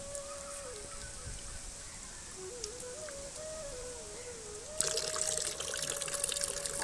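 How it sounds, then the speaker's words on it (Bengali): Water trickles thinly from a tap after the tank has run dry, a faint continuous dribble that gets a little louder and splashier near the end. "অল্প অল্প জল পড়ছে।"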